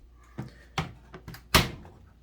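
A GE laundry dryer door being handled indoors, giving a few separate clunks and knocks of a latch and panel, ending in one louder thud, fairly close with no talk.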